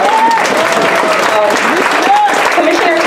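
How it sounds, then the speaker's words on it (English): An audience at a Black History Month presentation applauds Commissioner Tony Carter, a dense, steady clapping that fills the room with voices mixed in. "you can clap"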